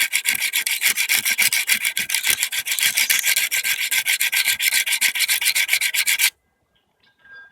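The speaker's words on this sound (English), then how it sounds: "I just sharpen like this until it's nice and sharp" A chisel blade is sharpened with fast, steady back-and-forth rasping strokes, loud and close for about six seconds before it stops, with no talk.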